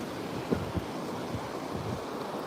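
Surf washes onto a beach at Mona Vale under gusting wind, a faint continuous rush of waves with buffeting wind noise and a couple of soft thumps.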